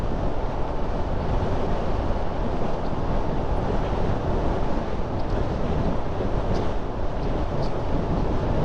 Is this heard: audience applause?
no